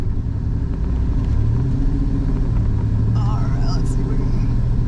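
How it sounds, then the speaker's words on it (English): A 1986 Pontiac Fiero GT, abandoned for years and without power steering, rumbles at low speed around the block with a steady engine drone from inside the car and faint muffled voices. "I just wanted to take it around the block real quick just to show you guys that it moves"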